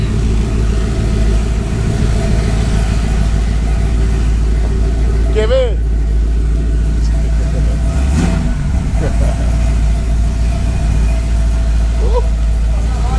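A lifted Ford F150 truck engine idles with a steady low rumble throughout, with people talking over it nearby.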